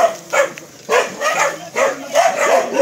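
A dog in a rural provincial setting barks close by, several sharp barks and yips in an uneven series.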